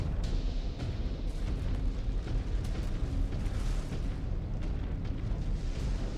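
A mech explodes in the MechWarrior 5 Clans video game, a dense, rumbling roar of blasts and crackling debris that stays loud and continuous throughout.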